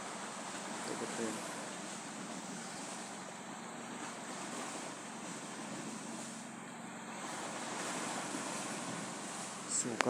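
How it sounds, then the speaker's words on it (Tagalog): Sea waves breaking along a shore, a steady broadband wash of surf under gusty wind noise on the microphone, continuous for the whole stretch with faint talk in the background. "Ito yung dagat."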